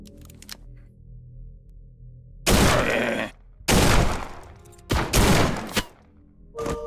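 Shotgun blasts in the Forgive Me Father 2 video game: three loud, booming discharges spaced about a second apart, each with a short rough tail, over a low ambient game drone.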